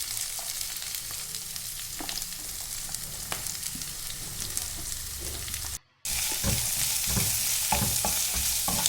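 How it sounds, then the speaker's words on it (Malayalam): Finely chopped ginger, beans and carrots are stir-fried together in a pan for semiya upma, making a steady, close sizzle with scraping stirs. It drops out for a moment, then returns louder, with no voices. "കുനുകുനാന്ന് മുറിച്ച് വെച്ച ഇഞ്ചി, കൂടെ തന്നെ ബീൻസും ക്യാരറ്റും ഒരുമിച്ച് തന്നെ ഇട്ട് കൊടുക്കുക. എന്നിട്ട് ഇത് നന്നായിട്ടൊന്ന് വഴട്ടിയെടുക്കുക."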